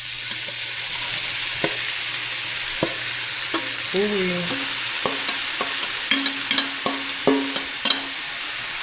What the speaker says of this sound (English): Okay, we about to get ready and saute our vegetables.